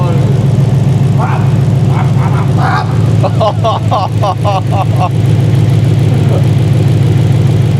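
A loud V8 engine in a BMW M3 GTR idles steadily up close with a deep, even rumble while voices speak briefly over it.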